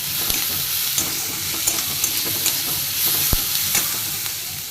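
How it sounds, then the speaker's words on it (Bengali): Salted onions with garlic and green chillies fry in a pan, a loud, steady sizzling hiss with light scattered crackles and a few soft stirring knocks, close up and uninterrupted. "পেঁয়াজটা ভালো করে ভেজে নেবো।"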